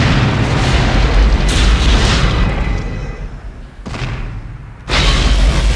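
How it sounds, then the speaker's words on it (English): A loud, deep rooftop explosion from the film Die Hard roars with a rumbling, crackling burst that fades, then a second heavy blast erupts near the end. "One of my favorite scenes in the entire film is the roof explosion"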